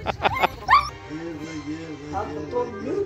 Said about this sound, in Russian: Ян, что это за орава собак?